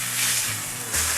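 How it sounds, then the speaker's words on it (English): Pot roast meat searing in a hot pan gives a steady, close hiss and sizzle that swells slightly near the end, with a low hum underneath and no talking. "Here I'm just burning the sides a little bit."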